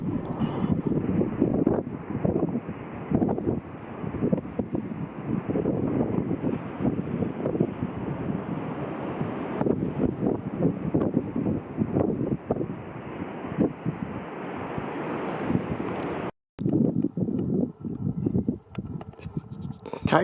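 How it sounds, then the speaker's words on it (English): Strong coastal wind at Coffin Bay National Park on the west coast buffets the microphone in uneven, gusty rumbling bursts, broken by one short dropout. "It was a beautiful day, but windy again."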